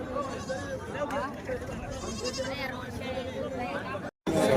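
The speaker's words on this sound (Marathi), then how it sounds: "बकरी खूप जातीचे येतात मित्रांनो बाजारामध्ये" Goats bleat repeatedly amid a busy outdoor livestock market in Gangakhed, India, with people chattering throughout and a brief dropout near the end.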